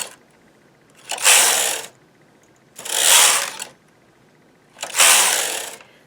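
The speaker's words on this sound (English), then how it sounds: "push the needle opposite the carriage again and knit back" Knitting machine carriage pushed back and forth across the needles while working a pointed edging, three separate whooshing, ratcheting passes of about a second each, with quiet pauses between them.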